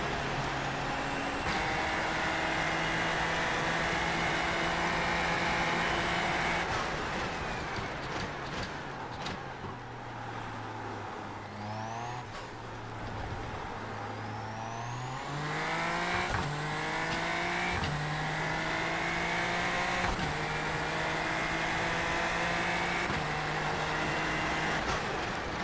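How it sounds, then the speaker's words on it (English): A race car driving in the rain in the iRacing sim, engine droning loud and close with rising and falling pitch through upshifts and downshifts, a steady hiss of wet spray underneath, no talking. "I'm just gonna let you listen to the sounds of the car and the rain and the way the car feels"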